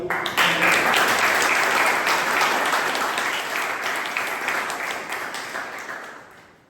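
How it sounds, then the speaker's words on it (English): Audience at a Toastmasters club meeting breaks into a big round of applause, loud and sustained clapping filling the room, slowly tapering toward the end with no talking. "So a big round of applause"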